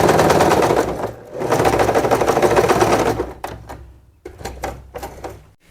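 A sewing machine stitches the hem of a draped skirt, running loud and close in a fast continuous whir, pausing briefly, then finishing in short stop-start bursts.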